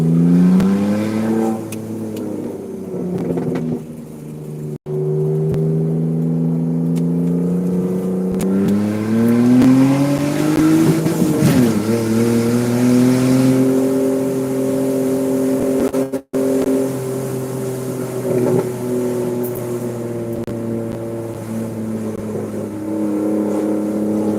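A BMW fitted with a straight pipe exhaust revs repeatedly while being driven, its loud, raspy engine note rising and falling in pitch close to the microphone and filling the whole stretch with no talk.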